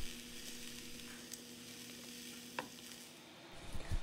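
A pot of vegetable and shrimp soup is stirred, with soft scraping and faint bubbling close by, a few light clinks against the pot, and no voices.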